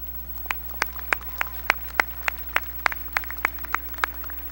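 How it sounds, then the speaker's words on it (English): At a 2003 high school graduation ceremony, scattered hand claps ring out one at a time, roughly a dozen sharp, fairly faint claps at an uneven pace over a steady low hum in the hall. "I would now once again like to take this time to applaud all of those people on their hard work for the past 4 years"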